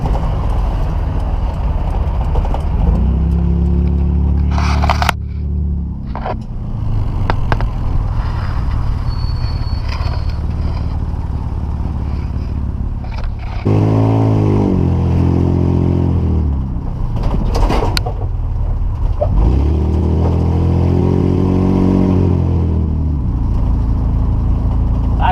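A chopped-top custom car with a lowered rear and scraping exhaust drives up a mountain road, its engine droning loudly throughout with repeated revving surges as it accelerates and shifts.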